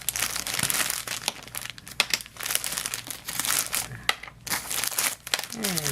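Eyeshadows being pulled out of a plastic bag make a steady, close crinkling and crumpling of plastic, with small crackles, faint rustles and brief thumps of the compacts.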